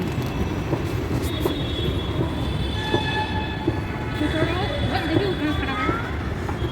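A Jaipur metro train runs with a loud steady rumble of wheels on rails, and thin metallic squeals rise and fade toward the end while passengers talk faintly underneath.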